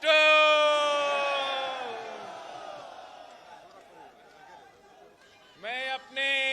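Crowd of Pakistan Peoples Party supporters at a Bilawal Bhutto Zardari workers' convention in Gujranwala, loud sustained chanting and yelling that fades, then two short bursts of shouted slogans near the end.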